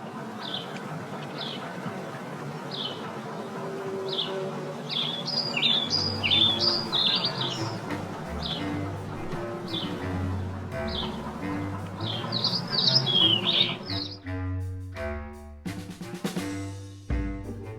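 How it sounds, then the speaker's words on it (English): Repeated bird chirps and tweets, slowed to 3/4 speed so they are lowered in pitch and drawn out, sound over a steady background hum, with a few deeper tones near the end. "here is the same audio again, slowed to 3/4 speed"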